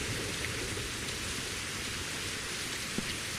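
Steady, heavy rain hisses continuously in the post-apocalyptic survival game Survival Postapocalyptic Now, loud and close, with no other sounds standing out.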